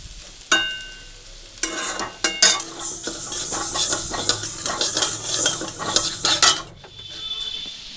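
A spoon scrapes and clatters against a wok (kadai) as food is stirred while frying. Irregular metallic strokes ride over a sizzling hiss, then the activity stops abruptly near the end.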